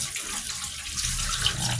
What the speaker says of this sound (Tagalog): hugasan lang natin itong mga itlog